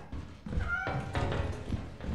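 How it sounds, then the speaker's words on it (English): In the video game Lethal Company, a cat meows in short, mid-loud calls over a background of thumps and game noise. "I hear a cat, I think."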